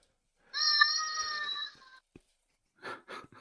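A human voice imitating a dying cat, one drawn-out strained wail lasting over a second, followed after a pause by a few short breathy yelps, fairly quiet overall.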